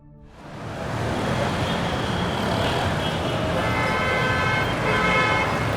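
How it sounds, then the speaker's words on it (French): Distant traffic in a busy, congested city forms a steady, dense roar that swells in and then holds, with faint car horn or siren tones drifting through the wash. "Ça, c'est le trafic un peu lointain, là, dans une ville un peu bien saturée."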